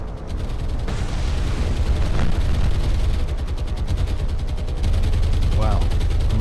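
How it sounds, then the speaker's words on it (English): Dense anti-aircraft gunfire rattles continuously in a War on the Sea naval battle in the Mediterranean, a loud, sustained barrage of overlapping shots and rumbling blasts that carries on without pause throughout. "this looks pretty thick anti-aircraft fire, doesn't it?"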